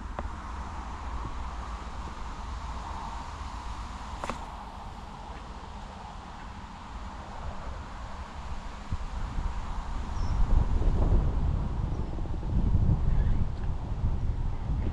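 Wind blowing outdoors by the water during autumn pike spin fishing, buffeting the microphone as a low, rough rumble that stays steady before swelling louder and gustier toward the end, with a brief sharp tick partway through.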